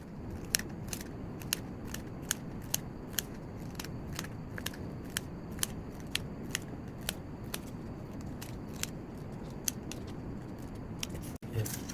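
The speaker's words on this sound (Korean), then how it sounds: "가위로 이렇게 하나씩 더 잘라야 됩니다" Scissors snipping paper to make a paper roller coaster, a steady series of sharp, quiet cuts at roughly half-second intervals over faint room hiss.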